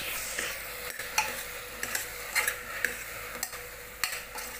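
Potatoes with green chilies, coriander and mint leaves are sautéed in a pan for puli bhaji: a soft sizzle punctuated by irregular sharp spoon scrapes and knocks against the pan, close by with no talking.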